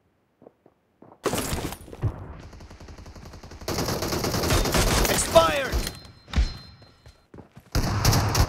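Gunfire in the video game PUBG, with bursts of loud automatic fire and thumping impacts after a quiet start, close and heavy, with a few voices heard.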